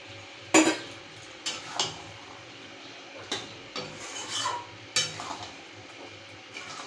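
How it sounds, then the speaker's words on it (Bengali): Egg korma gravy with whole eggs and spices being gently turned in a pan, a handful of separate scraping, rubbing strokes over a faint background sizzle, close and fairly quiet, no voices. "দিয়ে হালকা হাতে একটু নাড়াচাড়া করে দেবো, যাতে এই মশলাগুলো এই ডিমের মধ্যে ঢুকে"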